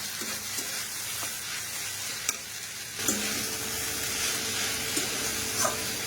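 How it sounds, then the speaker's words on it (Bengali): Food frying in a pan as it is stirred, a continuous close sizzle with occasional scraping clinks of the utensil against the pan, with no talking. "এটা একটু নাড়াচাড়া কর ভালো করে"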